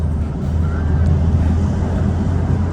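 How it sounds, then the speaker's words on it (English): Steady broadband wind rush buffets a 2022 Porsche 911 cabin while driving at about 35 mph, a loud continuous roar with low rumble and no clear voices. "and then you also hear the wind effect."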